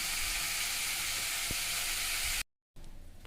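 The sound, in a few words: frying and sautéing ingredients for goat head curry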